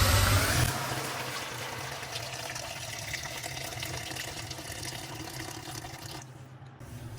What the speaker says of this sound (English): Add boiling water to the pot placed on high heat.